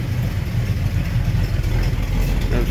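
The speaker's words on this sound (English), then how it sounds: "There she is running. There you go, engine running," A 1949 Series 75 seven-passenger limousine engine idles smoothly, a steady low rumble and even clatter close by, with no tapping or other interruption.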